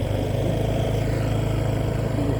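A motorcycle engine runs steadily close by on a rural barangay road in Calawag, a continuous mid-pitched drone holding at a constant loud level for a couple of seconds with no talk over it.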